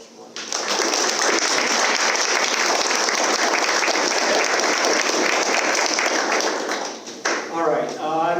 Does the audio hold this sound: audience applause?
yes